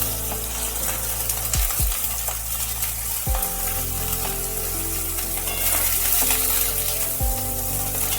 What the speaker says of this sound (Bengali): কড়াইতে দিয়ে দিচ্ছি অল্প একটু সর্ষের তেল এই তেলের মধ্যে আমি বেগুনগুলোকে একটু ভেজে নিচ্ছি